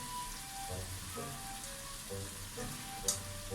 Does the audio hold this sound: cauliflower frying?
yes